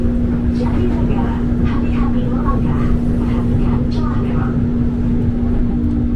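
KRL commuter train rolling into Jatinegara station, a steady loud rumbling drone with a constant tonal hum and clattering undertones throughout, heard from inside the carriage.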